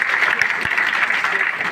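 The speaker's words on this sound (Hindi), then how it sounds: "ऐसे बहन के लिए जोरदार ताली होना चाहिए" An audience at a workshop in Rayagada, Odisha claps loudly and steadily in a short, dense burst of applause, close and filling the room.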